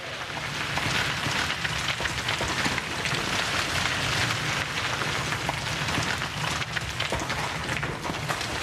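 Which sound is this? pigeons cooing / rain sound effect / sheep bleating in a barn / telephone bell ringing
rain sound effect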